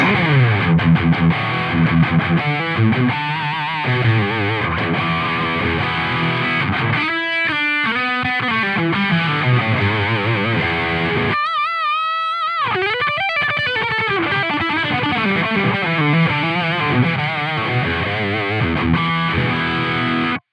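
Distorted electric guitar through a Line 6 Helix Epic amp model with a compressor plays a continuous riff with chords and single-note runs, the tone evenly squeezed and sustained, loud and steady throughout.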